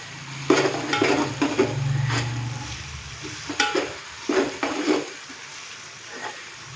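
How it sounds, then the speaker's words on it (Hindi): Whole spices, including small green cardamom, roast in a pan with a soft sizzle while a spoon stirs and scrapes against the metal in repeated bursts, close and moderately loud, with no voices. "साबुत खड़े मसालों को भी हम थोड़ा सा रोस्ट करेंगे जस्ट 30 सेकंड के लिए।"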